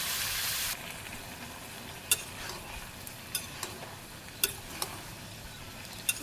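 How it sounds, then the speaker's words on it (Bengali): Vegetables sautéing in a pan open with a short burst of loud sizzling that cuts off quickly, followed by sparse, sharp taps and scrapes of stirring over a quiet background. "ভালোভাবে কষিয়ে নিই"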